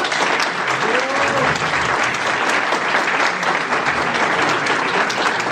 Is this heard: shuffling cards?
no